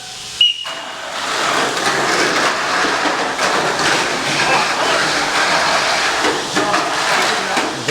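Tamiya Mini 4WD BMAX class cars race around a track, producing a continuous close whirring rattle that holds at steady loudness for the whole stretch after one sharp click near the start.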